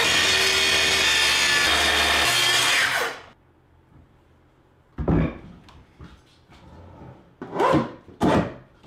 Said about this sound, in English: So I'm gonna run the track saw right through that glue line.